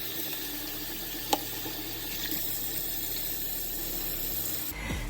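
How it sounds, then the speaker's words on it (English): Cooked buckwheat pasta rinsed under a running kitchen tap, a steady close hiss of flowing water into the sink for several seconds, with a brief clink and the flow cut off near the end. "Now I've cooked the buckwheat pasta, so I'm just going to rinse it"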